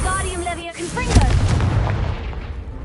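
A Confringo spell bursts in Hogwarts Legacy with a loud booming blast that trails off into a rumbling, crackling decay, following a short voiced shout and some game music.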